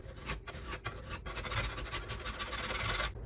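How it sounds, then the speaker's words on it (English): A metal file rasping steadily across an old edge to flatten it, close and continuous with brief pauses between strokes. "I'll take a file and you want this thing extremely straight and flat. You just want to take off that the old edge."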